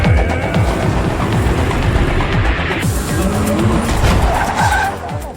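Race cars skid with loud tire squeal and roaring engines at the start of a race in a film, a dense continuous burst of screeching and engine noise.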